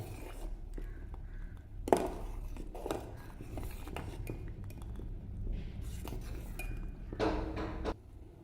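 Thick black urad dal porridge is stirred in a pot over low heat, with a spoon clinking and scraping against the metal in scattered knocks and rubs, plus a sharper clink near the start and more scraping toward the end.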